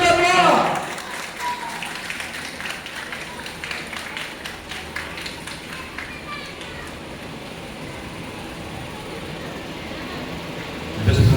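Sustained applause from an audience at a 14 August Independence Day celebration in Toba Tek Singh, Pakistan, greeting a federal minister as guest of honour. The steady, dense clapping lasts about ten seconds before fading, with voices briefly at the start and end.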